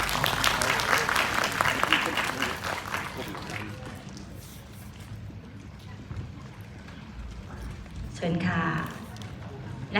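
Audience applause welcoming the provincial governor of Udon Thani onto an event stage, dense clapping loud for the first few seconds then thinning, with a voice announcing over it.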